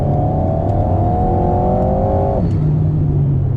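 A 2019 Alpine A110 in normal automatic mode accelerating hard to overtake on a 100 km/h road, its engine a loud, steady rising whine heard from inside the cabin, with a sudden drop in pitch at a gear change.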